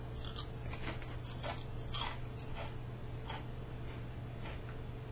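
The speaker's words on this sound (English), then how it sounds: "I would say that these Ruffles have a big crunch, deep ridges, and great taste." Ruffles ridged potato chips being bitten and crunched close up in a rapid series of crisp chewing bursts over a steady low hum, with no talking.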